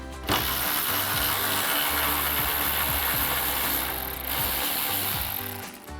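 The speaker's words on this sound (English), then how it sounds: "Again, using our 10mm socket." A ratchet with a 10mm socket backs out a bolt on the upper grille of a 2009-2014 F-150, giving a loud, steady run of rapid clicking pawl ratchets that continues almost the whole time with no voices.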